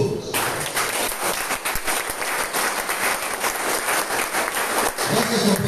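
Loud, sustained clapping from a crowd of men at a gathering in a men's rehabilitation centre, a thick steady roar of many hands that starts abruptly and rolls on, with a voice surfacing near the end.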